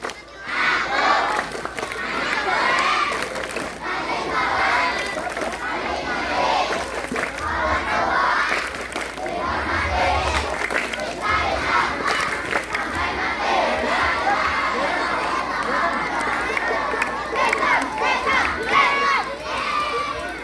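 Children at a Maulid Nabi Muhammad SAW school gathering perform the tepuk anak soleh clapping chant, a loud, continuous mix of young voices shouting in unison with clapping, sustained throughout.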